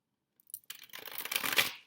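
A large deck of 118 cards is shuffled by hand in a quiet room, starting with a few faint taps and then building into a close, dense riffling rush that fades out at the end.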